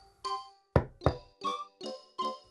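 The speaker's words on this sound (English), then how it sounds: "figure out who's knocking at my door" Knocking on a door in a children's educational cartoon, six distinct raps in an uneven rhythm, close and clear with no talking.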